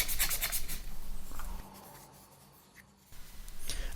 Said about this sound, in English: I sanded it down with different granularities of sandpaper.